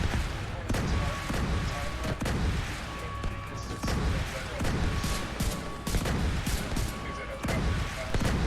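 Bursts of gunfire from the video game The Division 2 during a raid, with shots repeating continuously and densely throughout, mixed with game effects and voices talking over the fighting.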